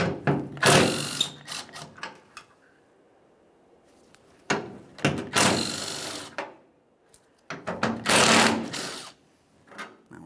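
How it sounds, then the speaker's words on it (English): A ratchet wrench clicks as it loosens rusted 13 mm tailgate mounting bolts on a 1999-2006 Chevrolet Silverado 1500, coming in three loud close bursts of rapid ratcheting separated by quiet pauses. "We'll be using a 13 millimeter for each of these 3 bolts."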